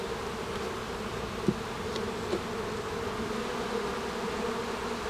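Honey bees buzz around an opened hive during a colony split, a dense, steady droning hum close by with a few faint clicks.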